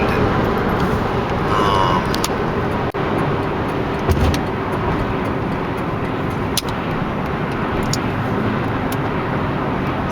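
A Buick Regal with 22k miles driving on a road, its steady engine and tire roar filling the cabin continuously at close range with no talk.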